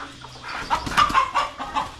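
Jungle fowl calling nearby in the forest, a short burst of several clucking, rising notes in quick succession, clear over quiet background.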